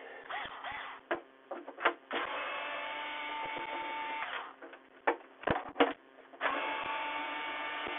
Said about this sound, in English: What I'm doing is I'm removing the screws off the bottom.